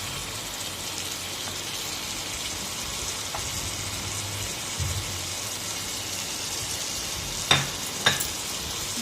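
Koi fish frying in hot oil in a pan: a steady, even sizzling hiss, with two sharp clinks near the end.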